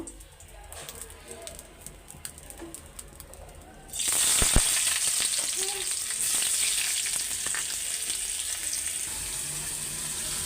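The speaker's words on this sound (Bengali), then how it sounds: "করলা ভাজিটাও বসাই দিছি" Bitter gourd slices frying in a pan with panch phoron, breaking into a loud, steady sizzle a few seconds in after a quieter opening with faint background chirps, the hiss holding strong to the end.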